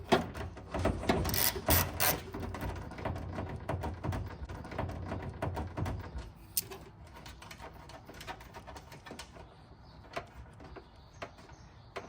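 A ratchet works loose the bolt on a Tesla Model Y inner tail light, with a dense run of quick clicking ticks and mechanical rattles close by, easing into scattered clicks, with no speech.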